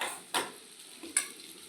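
Okra fries with garlic in an uncovered pan, a soft, quiet sizzle broken by two sharp spatula taps or stirs about a second apart.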